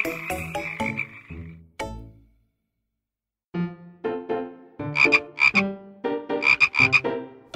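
Frog croaks in a children's fable setting, a grassy field: a few loud croaks early, a pause of near silence, then a rapid series of bright, ringing croaks close by.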